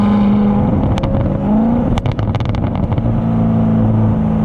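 A 2019 Corvette ZR1's exhaust pops and crackles in sharp bursts over a steady engine drone while driving, with a cluster of loud snaps in the middle, recorded close from the rear.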